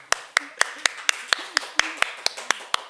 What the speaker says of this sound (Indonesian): Tayang, tepuk tangan deh.